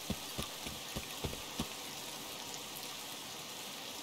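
Steady rain falls in an Escape from Tarkov raid, a dense, even wash with a few sharper drops or thumps early on, heard alone with no voices.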